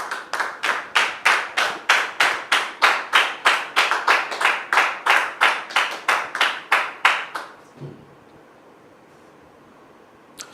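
Rhythmic, evenly spaced hand clapping at a ceremony rings out loud and close for about seven seconds, then stops abruptly, leaving quiet room noise.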